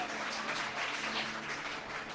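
Church congregation applauding, a steady broadband wash of clapping held at an even level throughout, moderately loud with no distinct individual claps standing out.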